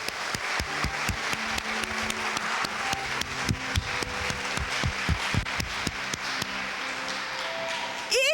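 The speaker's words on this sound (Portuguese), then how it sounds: "Você pode aplaudir essas pessoas?" A church congregation applauds steadily and fairly loudly for several seconds, a continuous wash of many hands with faint sustained musical tones underneath.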